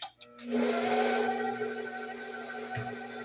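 Electric mixer whirring steadily through sweet potato pound cake batter, a continuous close motor hum with a brief start at the beginning.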